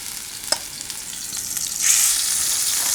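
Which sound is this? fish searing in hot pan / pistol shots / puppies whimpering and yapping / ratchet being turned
fish searing in hot pan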